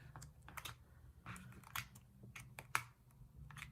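Pages of a Happy Planner book with a grayish purple cover and gold foil accents being flipped quickly, giving a run of short, close papery flicks and soft slaps at an uneven rhythm.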